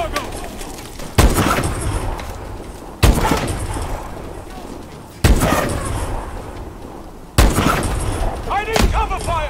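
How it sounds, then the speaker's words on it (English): Loud gunfire and explosive blasts in Call of Duty: Advanced Warfare, with four sharp heavy bursts a couple of seconds apart, each followed by rumbling debris and combat noise. "Open fire when we're in position, Aluna."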